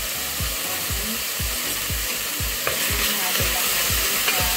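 Squash and pork simmering in coconut cream with shrimp paste get stirred in a pan, a steady sizzle under regular scraping strokes of the spoon, about two per second, close and with no talking.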